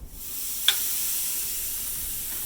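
Skirt steak sizzles on a grill as a steady, even hiss that runs throughout, with one small sharp pop near the start.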